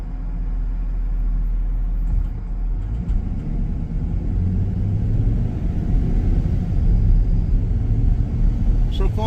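A 2019 van drives along a road, its engine and tire rumble steady and low throughout, with someone talking over the cabin noise.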